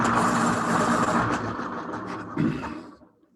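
A rough, continuous grinding and scraping of a pencil being sharpened close by, rattling unevenly for about three seconds before trailing off into quiet.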